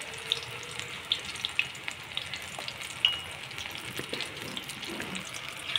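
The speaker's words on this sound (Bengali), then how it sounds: "এবারে আমি কড়াইতে দেব সেই ভাজিটা, শাকের পকোড়া করতেছি" Spinach pakoras fry in hot oil in a wok, a soft steady sizzle with scattered pops and small crackles, heard close and alone.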